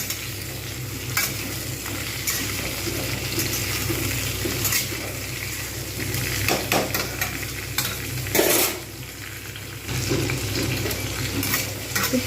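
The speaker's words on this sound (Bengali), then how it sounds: "ভালো করে নাড়িয়ে নেব" Potatoes and beans with tomatoes frying in a pan, with a steady sizzle throughout and repeated scraping strokes of a stirring spoon, including a louder scrape near the end.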